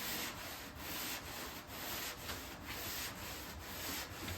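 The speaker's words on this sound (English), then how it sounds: "It's kind of clogging up the sandpaper a little bit." Sandpaper rubs over a 1987 Camaro body panel during paint prep, clogging with filler that is not quite dry. The scratchy sanding strokes are close and continuous, with a steady back-and-forth rhythm and no voices.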